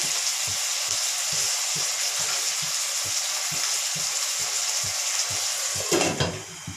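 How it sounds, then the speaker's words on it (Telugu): Onions frying in oil in a kadai make a constant broadband sizzle throughout, with a brief rustling stir near the end. "ఉల్లిపాయలు, బాగా వేగనిద్దామని"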